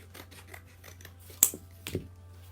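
Scissors cut material for a homemade hay rake with two crisp snips close by, a sharp one followed half a second later by a softer one, against a quiet, faintly humming background and no speech.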